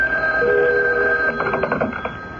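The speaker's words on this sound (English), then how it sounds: "the telephone rang" Telephone bell from an old-time radio mystery drama rings clearly in a sustained burst, then gives way to a rattling, fainter jangle.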